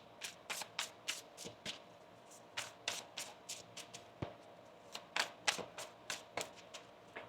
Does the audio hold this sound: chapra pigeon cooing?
no